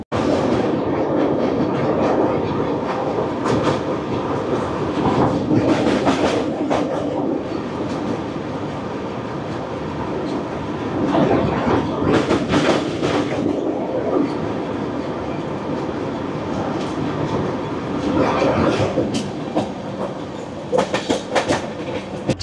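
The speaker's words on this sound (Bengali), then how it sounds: "আমাদের ট্রেন পার করবে কৃষ্ণা নদীর ব্রিজ" A train crosses the Krishna river bridge past Vijayawada junction, a steady loud rumble of wagons with rhythmic clickety-clack bursts and rattling peaks throughout, heard close from on board with no talk.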